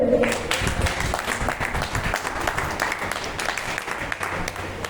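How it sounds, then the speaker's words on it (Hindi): A meeting crowd claps in a short burst of applause lasting a few seconds, fairly loud and dense, with faint voices beneath it. "ताली बजाइए।"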